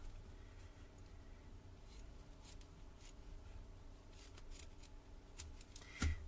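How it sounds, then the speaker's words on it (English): Scissors slice down the middle of a craft ribbon for a junk journal, a quiet steady snipping close by, ending in a louder closing cut. "it's where you cut down the middle of the ribbon"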